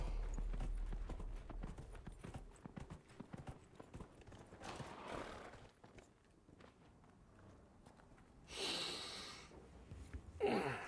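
Horse hooves clip-clop in a steady, rhythmic trot in a video game, Dragon Age: Inquisition, close and fairly loud, with a few heavier thumps and bursts of noise partway through.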